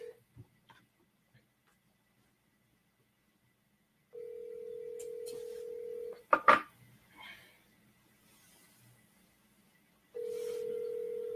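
A telephone call gives out a steady electronic tone for about two seconds, then a short burst of clicks and dialing, and the tone comes back after a stretch of near silence.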